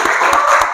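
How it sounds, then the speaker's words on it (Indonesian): Classroom applause from students at a university Islamic studies session, a dense steady patter of clapping hands filling the whole short moment, close and loud. "Tepuk tangan dulu buat Titin."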